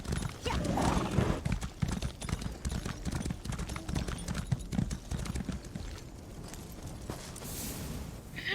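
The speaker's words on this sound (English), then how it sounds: "You go to a way shrine, I'll ride my horse." Horse hooves clip-clop at a steady gallop in Elder Scrolls Online's Rivenspire, close and continuous, with an occasional whinny and a bright chime near the end.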